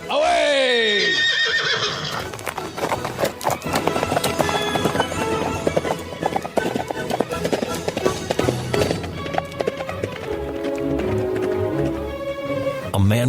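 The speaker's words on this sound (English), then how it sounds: "From out of the past come the thundering hoofbeats of the great horse Silver." A horse neighs and hooves gallop in an old-time radio drama opening, a loud whinny up front followed by thundering hoofbeats under a full orchestral music bed, with no talk.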